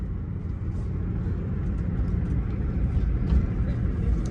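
A Toyota Twincam 16 car is driven and overtakes, giving a steady close engine rumble and road noise that swells slightly toward the end, heard from inside or near the car.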